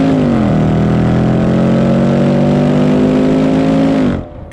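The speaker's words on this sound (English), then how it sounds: "its throaty exhaust note that makes it sound like a muscle car" A loud, throaty engine note from a Range Rover Velar SV Autobiography Dynamic Edition SUV holds a strong rev close by, its pitch dipping slightly then steadying before abruptly cutting off.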